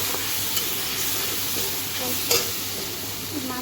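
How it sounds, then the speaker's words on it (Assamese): Coriander and cumin powder sizzling in hot oil, a constant close frying hiss with a couple of sharp spoon knocks against the pan, no voices. "তেল গরম তেলে ধনিয়া গুঁড়া দিচ্ছি জিরা গুঁড়া দিই"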